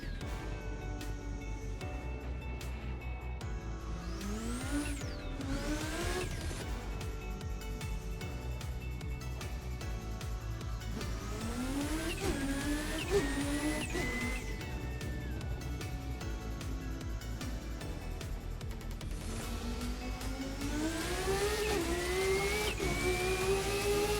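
A Pikes Peak race car screams around the Nürburgring, its engine repeatedly revving up through rising pitch sweeps with gear changes between, loud and continuous over about twenty seconds.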